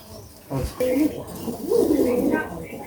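Khaki (China khaki) gola pigeons give a short throaty coo close by, a few soft warbling notes over faint background noise.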